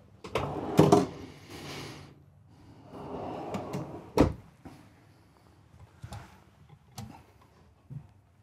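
Drawers in the galley of a 2023 Emerald Prevost H3-45 luxury motorcoach opening and closing, a series of close, sharp knocks and slides with short quiet gaps between them.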